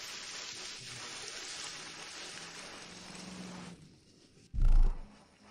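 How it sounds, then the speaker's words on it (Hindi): Steady rain falls as a dense, even hiss through most of the stretch, then eases off, and a short low thump breaks in near the end. "बारिश हो रही है"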